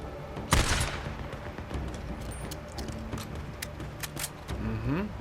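Gunfire in the video game Days Gone: one loud, sharp shot early on, then a few fainter, more distant shots over steady in-game ambience and music.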